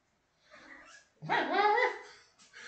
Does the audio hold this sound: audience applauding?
no